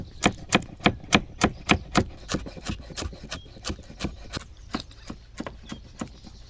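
A knife chops coriander, dill and pink onion on a board in quick, sharp, evenly spaced strokes, about two to three per second, close and crisp, thinning into lighter irregular taps near the end.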